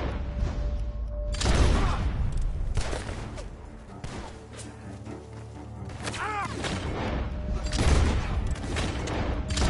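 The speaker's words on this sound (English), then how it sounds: "The gunshots are coming from that" Several sharp gunshot bursts ring out over a rumbling soundtrack in Red Dead Redemption 2, coming from a barn, some loud and close, others fainter, with short gaps between volleys.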